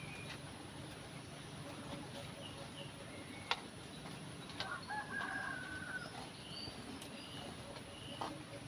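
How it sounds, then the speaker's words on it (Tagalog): A rooster crows in the distance over steady background noise, with a few faint clucks and short knocks around it, in the Philippines after a typhoon. "Grabe yung mga manok na to ah"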